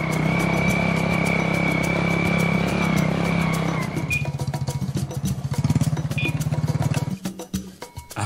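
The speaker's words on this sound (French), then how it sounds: "Ensemble avec lui, nous nous dirigeons à moto chez Ntumwa Ubin Mouyokolo" A motorcycle rides along on a trip through Kinkala, its engine a loud steady drone that shifts into a rougher, pulsing rumble midway before fading and breaking up near the end.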